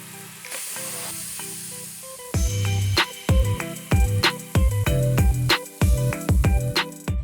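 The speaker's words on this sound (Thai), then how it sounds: "แล้วนำไปย่างไฟจนสุกสีสวยแล้วก็หอมกลุ่น" Japanese hamburger steak patties sizzle as they grill, a steady hiss broken by repeated louder bursts of crackling, close and fairly loud with no voices.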